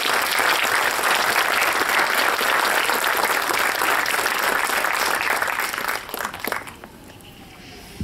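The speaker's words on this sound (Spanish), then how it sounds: "Vamos a darle un fuerte aplauso," A church congregation gives a loud, dense round of applause that holds steady for several seconds, then thins out and fades near the end.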